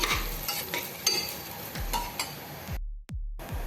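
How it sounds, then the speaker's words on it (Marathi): Rice is stir-fried with onions in a pressure cooker for mushroom pulao, with a steady sizzle and repeated spoon scrapes against the metal. A brief cut to silence interrupts it near the end. "तांदूळ आपण एक मिनटं परतून घेऊया"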